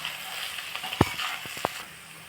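Cinnamon sticks drop into hot oil and fry with a soft steady sizzle, broken by a few clinks and stirring knocks from a utensil on the pan.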